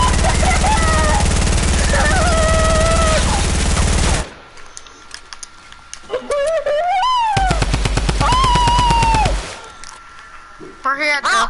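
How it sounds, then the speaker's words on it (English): Automatic gunfire in Fortnite rattles loud and continuous as a weapon's ammo is emptied, breaking off midway and resuming in long bursts, with people talking over it throughout. "let me just waste all the ammo on his gun"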